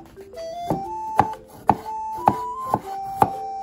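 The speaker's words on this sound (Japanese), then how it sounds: "そしたら洗ったきゅうりを切っていきます。輪切りに薄く切ります。" A knife thinly slices a washed cucumber into rounds on a cutting board, giving six sharp, evenly spaced chops about half a second apart, close and clear over faint background music.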